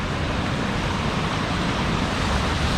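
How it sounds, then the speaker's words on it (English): A waterfall in Laos roars as a dense, steady rush of falling water, loud and unbroken, with no voices. "There's more waterfalls here."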